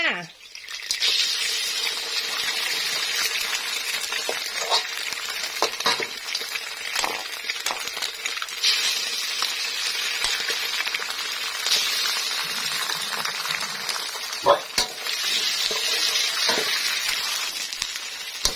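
Eggs frying with garlic in a pan for a stir-fried pickled mustard greens dish give off a steady, fairly soft sizzle that lasts throughout, with a few clicks of a utensil scattered across it.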